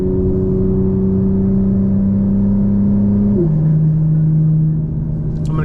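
A 2024 BMW M4 Competition xDrive (G82) with exhaust valves open hums at a steady cruise, a loud, deep drone whose pitch drops as it shifts partway through, with road rumble beneath.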